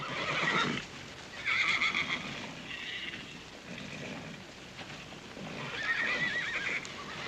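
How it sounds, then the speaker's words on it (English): Horses at a small-town auction whinny several times, shrill neighs rising over the sound of hooves clip-clopping on the ground nearby. No one speaks. "Oh, Mr. Tabor, I've got some horses up for auction here"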